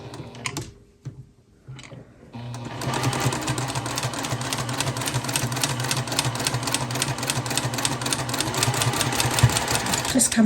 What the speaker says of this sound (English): So I'll just pop a pin in and sew along that edge there.